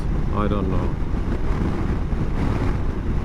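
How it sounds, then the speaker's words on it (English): Heavy, gusty wind buffets a motorcycle-mounted microphone during a summer ride in northern Norway, a steady loud roar throughout with brief talk near the start. "Oh, it's really heavy wind."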